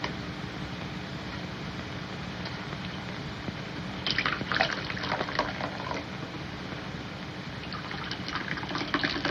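Liquid poured at a table: a continuous splashing, trickling stream that grows brighter and more sputtery partway through, over a steady background hum.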